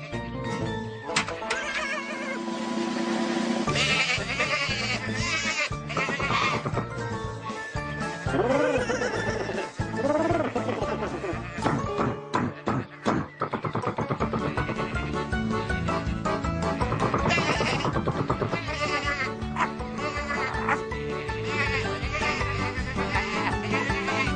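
Cartoon sheep bleat amid a busy, loud music score in an episode of the Polish-dubbed Tractor Tom series, with short wavering calls breaking through the steady backing music.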